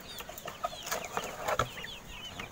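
Native and Rhode Island Red chickens cluck in a backyard flock, a quiet scatter of short overlapping clucks and soft calls at moderate distance, with no talking.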